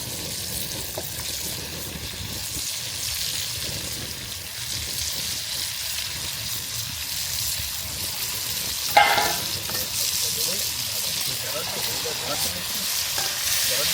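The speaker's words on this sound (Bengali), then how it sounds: "এবার আমরা কেটে রাখা মাছগুলোকে দিয়ে দেব।" Fish pieces sizzle and fry in a pan of spiced, softened masala while being stirred, a steady close hiss with scraping stir strokes and a brief clatter near the middle.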